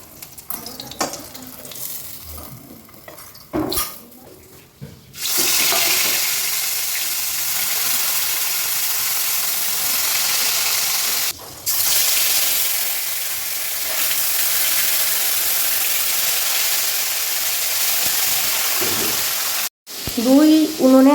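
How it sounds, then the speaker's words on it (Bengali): Catla and silver carp pieces frying in oil on two stoves, a loud steady sizzle that runs nearly throughout after a quieter opening with some handling noises, broken by brief dips. "এখানে কাতলা মাছ ভাজছি আর এখানে ভাজছি সিলভার কাপ।"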